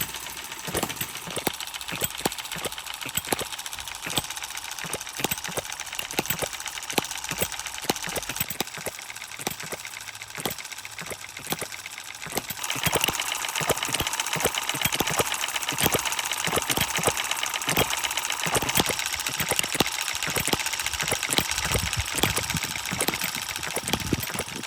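Three small hit-and-miss model engines with mechanical ignition run together, giving a dense, rapid ticking and knocking chatter. The sound thins after a pause, then a steadier, louder running sound takes over.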